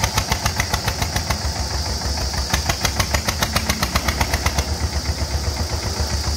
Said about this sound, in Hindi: single cylinder water cooled engine के साथ में ट्रैक्टर है ये स्वराज 825 XM